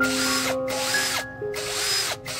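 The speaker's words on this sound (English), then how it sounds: "Drill 2 holes 15 mm from the edge, tap them with M10 threads and insert M10 times 20 bolts." A power drill bores holes into a PVC end cap, three whining bursts of motor and bit separated by short pauses, close and fairly loud with no talking.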